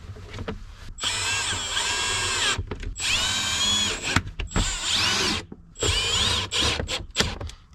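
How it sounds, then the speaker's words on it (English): Power drill set to low torque driving screws into a fitting on a Ford Bronco, several loud whirring bursts of varying length separated by brief pauses, close by. "I'm gonna set my drill really weak just in case I get a little squirrely with the trigger"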